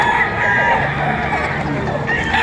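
A rooster crows amid a noisy outdoor chicken market in Padre Garcia, Batangas, where green-legged roosters are sold; the crow rises above a steady crowd din.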